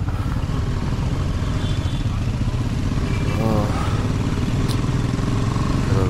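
A vehicle creeps carefully along a rough road on the way from Kanyakumari to Munnar, its engine humming steadily and close with faint clattering over the bumpy surface.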